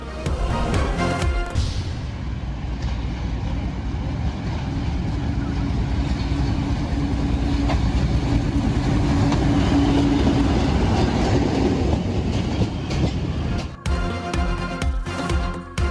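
A train rumbles through Golra railway station, a steady loud rolling drone of wheels and carriages that carries on for the whole stretch, with a brief jolt near the end.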